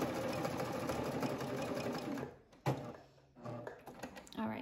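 Serger stitching fabric while attaching a skirt bottom to a bodice, running as a steady, dense mechanical whir up close, then stopping abruptly with a clunk before softer handling noises and brief restarts.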